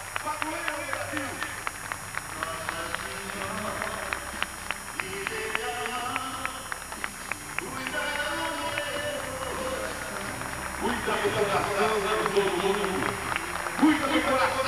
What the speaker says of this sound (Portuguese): uma imensa salva de palmas, salva de palmas da Nossa Senhora Aparecida